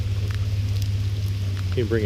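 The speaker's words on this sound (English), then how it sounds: "as you can tell, it's raining" Rain falling on hikers along the Appalachian Trail, a steady patter over a constant low hum, with a voice beginning to speak near the end.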